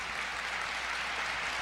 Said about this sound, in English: And a standing ovation from the crowd